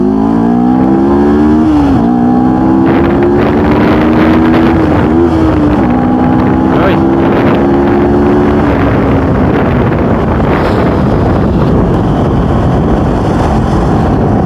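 An SR250 motorcycle engine pulls hard through first, second and third gear in traffic, its rising drone stepping down briefly at each shift before climbing again, loud and close with wind rush over the microphone.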